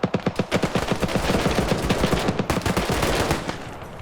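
Rapid automatic AK rifle fire in a Cold War-era PvP video game, a dense close stream of loud shots in quick bursts running nearly continuously, with no talking.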